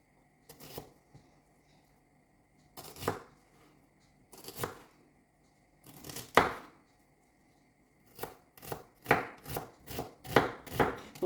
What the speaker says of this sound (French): C'est la découpe de quelqu'un qui a deux mains gauches.